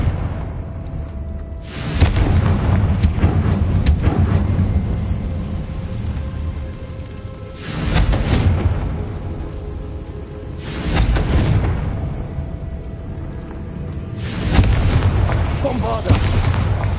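Confringo fire spell blasting in Hogwarts Legacy, several loud booming bursts spaced a few seconds apart over a continuous rumbling game background.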